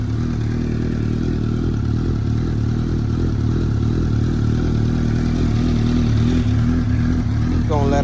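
A dirty Suzuki GSX-R motorcycle idles steadily with a low, even engine rumble that holds loud and constant throughout, with no revving.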